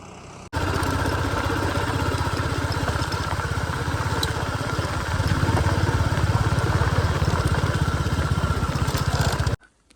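Motorcycle engine running steadily and loud through an off-road ride on a rough, frozen track in Nepal, with a continuous close throbbing drone that swells slightly midway before cutting off near the end.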